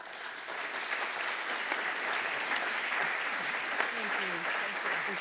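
Steady audience applause at a recovery honors ceremony, a dense wash of many hands clapping at an even level throughout, with some faint voices murmuring underneath.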